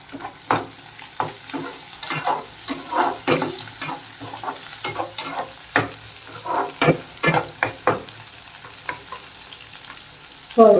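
Tomatoes sizzle in a pan for a Tamil fish curry, with a spoon stirring and scraping them in sharp, irregular bursts over a soft, steady frying hiss.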